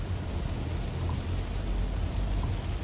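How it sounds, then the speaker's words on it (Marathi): Heavy rain pours over Chandni Chowk in Pune, a steady, dense wash of rainfall noise that stays constant throughout, with a low rumble underneath and no voices. "चांदणी चौकामध्ये जोरदार पाऊस झालेला आहे."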